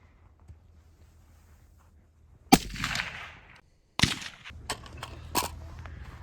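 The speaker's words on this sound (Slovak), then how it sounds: "Pozor, strieľam." A sharp, muffled gunshot from a suppressed AR-15 rifle cracks nearby, followed seconds later by a second report, each trailing into brief echoing noise outdoors.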